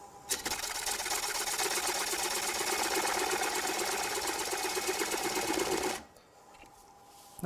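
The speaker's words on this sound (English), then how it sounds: "I just keep using my bowl gouge and get rid of that material first" A wood lathe spins as a bowl gouge takes heavy cuts to clear material from the foot of a bowl, giving a loud, steady whirring rasp that runs for about six seconds and then stops abruptly.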